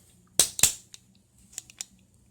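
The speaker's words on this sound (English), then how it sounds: "That's the batteries rattling around in there." Batteries rattling loose inside a Pelican 1920 flashlight, a few sharp close clicks and knocks from the shaken light, two loud ones then several fainter, with no speech.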